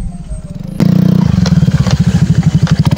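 Motorcycle engine thrumming loudly and steadily on a rough dirt road near Minalungao National Park, with clattering and scraping from the bumpy, slippery track as the rider pushes through, close and continuous.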